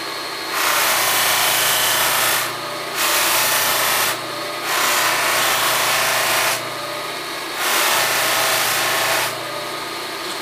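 A buffing wheel polishes a tobacco pipe with carnauba wax, giving four loud bursts of rubbing, whirring friction over a steady motor hum, separated by brief quieter gaps.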